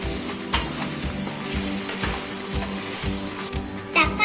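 Tomatoes are tipped into a frying masala of ginger-garlic paste for a radish gravy and stirred, giving a steady close-up sizzle with repeated spoon scrapes and bumps in a rough rhythm.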